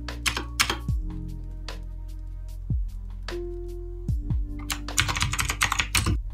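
Rapid, uneven keystrokes on a computer keyboard while HTML paragraph tags are entered, clicking close and clear in short bursts with a few louder thuds between them and no talk.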